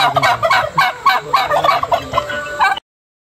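A large fowl of the chicken family, resembling a peacock, calls loudly and close by in a rapid series of gobbling bursts for a few seconds, then silence.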